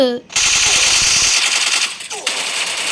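Loud automatic rifle fire in Counter-Strike, a rapid sustained burst followed by a brief pause and then more shots, with a voice heard briefly at the start and again in the middle.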